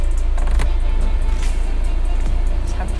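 The sunroof motor of a third-generation Volkswagen Beetle 2.0 TDI runs inside the car, a steady low mechanical hum with faint ticks and clicks, close and continuous over a short stretch.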